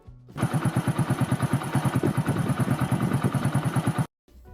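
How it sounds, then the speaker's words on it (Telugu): A motorcycle engine runs at a steady pace for about four seconds, its rapid regular putter close and even, then cuts off abruptly. "ఒక మోటార్ సైకిల్ యొక్క ఈ శబ్దం వినండి"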